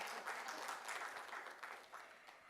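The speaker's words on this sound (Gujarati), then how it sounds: "એટલે તાળી પાડવાની હતી" Audience applause at a Gujarati stage programme, a steady wash of many hands clapping throughout, fairly even and moderately distant with no voices over it.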